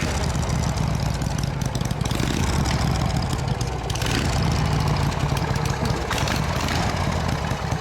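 A 1981 Harley-Davidson FXS Lowrider warms up at idle, its engine giving a loud, steady, close rumble with a continuous low throb and slight fluctuations in the lumpy beat.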